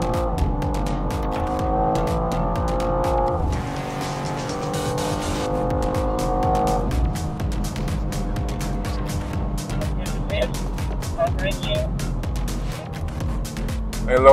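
A 2024 BMW M2 engine roars close by, rising through the revs with gear changes, then accelerating hard again with a brief shift partway through.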